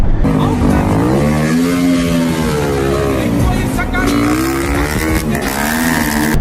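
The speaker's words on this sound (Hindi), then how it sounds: "आपने अपना एग्जॉस्ट ऑन किया, भैं भैं भैं भैं कर" A Maruti 800 with a modified exhaust revs loudly and continuously, its pitch rising and falling as the exhaust roars, with someone talking over it.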